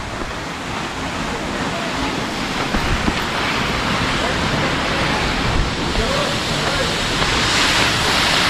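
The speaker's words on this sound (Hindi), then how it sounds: "यहाँ पे है वाटरफॉल।" A waterfall at Mainpat, Chhattisgarh, sends out a continuous rushing roar, loud and close. The broad, unbroken wash of water noise holds steady throughout.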